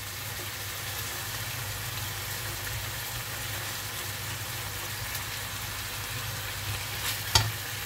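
Ground meat frying in a pan for tacos gives a steady, faint sizzle with soft crackling, and a single sharp clink of a utensil near the end.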